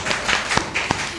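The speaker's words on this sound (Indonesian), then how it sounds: "mau kasih tepuk tangan?" Short burst of audience clapping in a live radio studio broadcast on 99.4 FM, a few people applauding briefly with several sharp claps standing out, fairly close and moderately loud.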